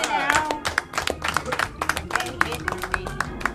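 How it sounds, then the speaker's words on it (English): Clapping during a Congolese music radio show, a handful of distinct sharp hand claps in loose rhythm heard close, with voices and music-like tones running underneath. "Y'all clap it up for yourself."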